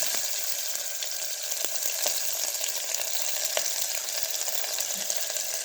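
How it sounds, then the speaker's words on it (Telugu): Cumin and mustard seeds sizzle in hot oil, giving a continuous close frying hiss with scattered small crackles and pops. No one speaks over it. "ఫస్ట్ అయితే ఆయిల్ వేసుకున్నాం కదా మనము తర్వాత దీంట్లో జీలకర్ర ఆవాలు వేసుకోవాలండి"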